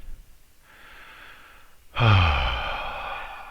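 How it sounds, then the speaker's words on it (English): A deep breath in, faint at first from about 0.6 s, then a louder, fuller exhale or sigh at around 2 s that trails off, close and alone without talk. "I choose to take a deep breath"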